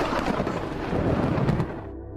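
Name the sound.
thunder in a film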